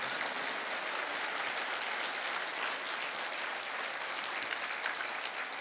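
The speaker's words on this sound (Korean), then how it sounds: "오늘 이 밤 진정으로 감사의 박수 올려드리면 좋겠습니다" Steady applause from a church congregation during an evening service, sustained and even throughout with no pauses.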